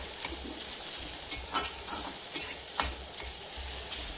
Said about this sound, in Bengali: এভাবে ফ্রাই করে নিব। পেঁয়াজ কুচিগুলোও দিয়ে দিলাম।